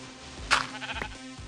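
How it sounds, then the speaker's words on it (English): A Minecraft sheep bleats once loudly, followed by a few shorter, softer bleats, with a steady low background hum of game ambience. "Get off my crops, you dirty little bastard sheep!"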